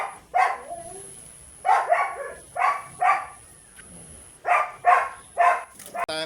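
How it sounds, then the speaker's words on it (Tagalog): Dogs bark in short bursts of two or three sharp, mid-distance yelps, repeated with pauses between groups over a quiet outdoor background. "Ang ingay ng aso talaga."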